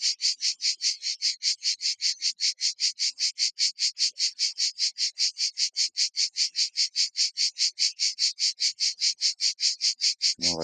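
A dense, steady pulsing of cicadas chirping close by in Provence, a rapid rhythmic buzz that runs unbroken throughout, with a brief low sound at the very end.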